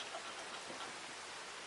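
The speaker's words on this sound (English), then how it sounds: "Oh, great, it's raining." Steady rain falling in Farming Simulator 25, a soft, even broadband hiss with faint scattered droplet ticks, quiet and continuous with no talk.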